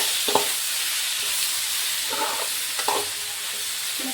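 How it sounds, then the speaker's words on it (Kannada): Tomato frying in a pan for a dhaba-style egg gravy, a steady close sizzle with a few scraping stirs at irregular intervals and no voices. "ಟೊಮೊಟೊ ಕೂಡ ನಾನು ಹಾಕ್ಕೊಂಡ್ಬಿಡ್ತೀನಿ. ಇವಾಗ ಚೆನ್ನಾಗಿ ಇದನ್ನು ನಾನು ಫ್ರೈ ಮಾಡ್ತೀನಿ."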